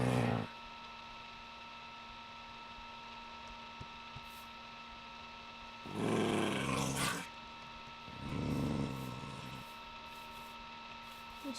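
Dogs growling in a Minecraft game, two short low growls a couple of seconds apart over a faint steady hum, with a brief sound at the very start.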